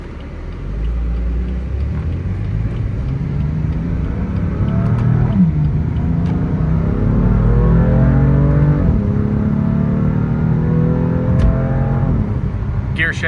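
A 2018 BMW M3 CS engine pulls hard from inside the cabin, its pitch climbing and dropping with several quick, tight gear shifts, loud and sustained throughout.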